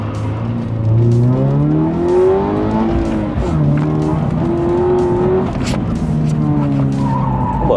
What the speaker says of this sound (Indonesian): Si Mas Demas mau loh nyetirin mobil gue.